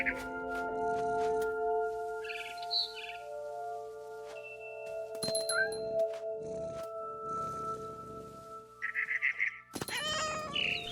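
A cat meowing in the game What Remains of Edith Finch: a few distinct, fairly loud meows spread across the scene, with bird chirps and sustained musical tones underneath.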